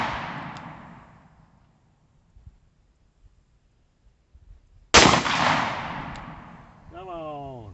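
A Taurus 605 Protector Poly revolver fires a .357 Magnum round at an outdoor target: a faint fading tail, then one sharp loud crack with a ringing decay, followed by a short tonal ping.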